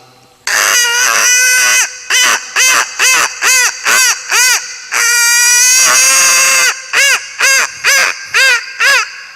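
A man on a comedy stage imitates a hen laying an egg, making loud, repeated squawking clucks in an even rhythm with one long drawn-out cry in the middle.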